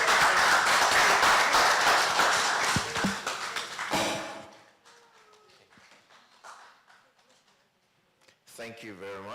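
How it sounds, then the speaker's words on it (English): Conference audience applause that starts loud and dense, then fades away after a few seconds into a quiet room with scattered faint sounds, before a voice comes in near the end. "A big round of applause for them."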